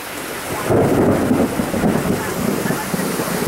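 A thunderstorm with heavy rain and a loud rumble of thunder close by, followed by a steady downpour and some wind buffeting on the microphone.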